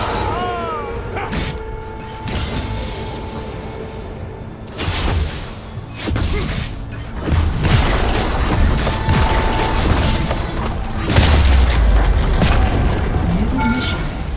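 A tower in League of Legends: Wild Rift being destroyed in a mobile game, with repeated booms, crashes and shattering effects amid ongoing battle sounds and brief voice prompts.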